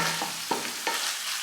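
Taquitos with meat filling sizzling in a hot pan, a steady frying hiss broken by a few soft scraping stirs.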